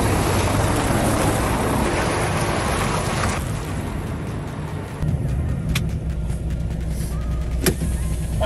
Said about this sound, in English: I'll just pull forward and we'll have a quick circulate of the truck.